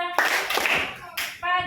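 Students clap in a classroom to a counting pattern, a short burst of claps followed by a second burst, close and fairly loud with voices around it.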